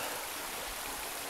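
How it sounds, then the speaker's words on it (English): The River Kelvin in Scotland flows steadily nearby, a continuous broadband rush of moving water with no talking. "This is the River Kelvin"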